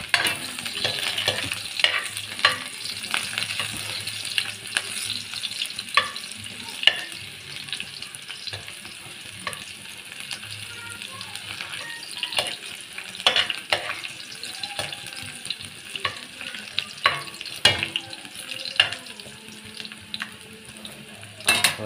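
Onion, garlic and ginger sizzle steadily in hot oil, with scattered clinks and scrapes of a utensil stirring in the pan throughout.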